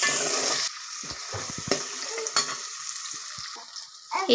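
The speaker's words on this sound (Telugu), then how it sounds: "ఇందులో ఉల్లిగడ్డ మంచిగా ఫ్రై కావాలి" Onions fry in hot oil for Telangana-style boti curry, a bright sizzle at the start that drops away to quieter crackles and scraping stir strokes, close-up, with a louder burst near the end.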